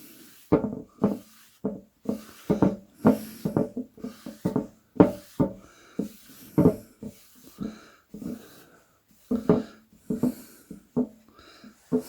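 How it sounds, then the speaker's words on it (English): Cloth wiping excess hard wax oil off an oak, cherry and ash cake stand, a series of soft rhythmic rubbing strokes on wood, close and distinct, with short pauses between passes. "What I'm going to do now is just wipe all that excess off."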